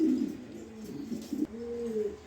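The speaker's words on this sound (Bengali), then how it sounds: "এই যে দেখেন গ্রিজেল পেয়ারটা ব্রিডিং করতেছে।" A breeding pair of Grizzle pigeons coos softly nearby, a few low, rounded murmuring calls over quiet background with no talk.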